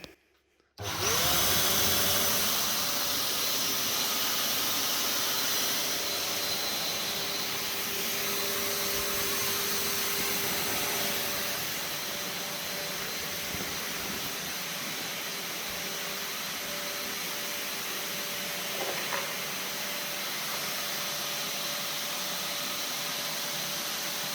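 Carcoon inflatable paint booth fan running on extraction, a loud steady close roar of rushing air with a constant hum that starts abruptly and continues unbroken.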